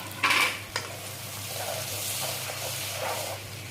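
Chicken and raw chillies frying in a pan with turmeric and cumin for a Mishing chicken dish, a steady close sizzle under clinks and scrapes of a stirring utensil.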